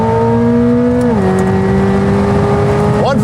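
Corvette C8 ZR1 at high speed, a loud sustained engine drone heard from inside the car, holding pitch, dropping at one gear change, then rising again at the end.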